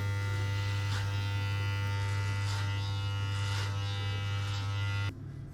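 Electric hair clippers fitted with a number 1 guard trim hair in close-up, giving a loud, steady buzzing hum with brief scraping swells as they pass through hair. The buzz cuts off sharply near the end.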